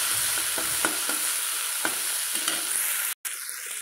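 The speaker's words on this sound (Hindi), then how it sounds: "मु एबे कंचा लंका को मध्य पके नउची। कोन टिके फ्राई कर देबी।" Green chillies frying with onions and tomatoes in a pan, a steady close sizzle with occasional spatula taps and stirring scrapes, no voices.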